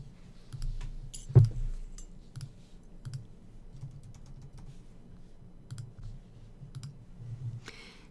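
A computer mouse clicking while building cards for a categorizing quiz template: sparse, quiet, single clicks spread across the stretch over a faint low hum, with no talk.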